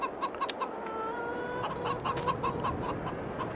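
Chickens in the Farming Simulator 22 video game cluck in short, repeated bursts over a faint farmyard background at moderate distance, with no voices.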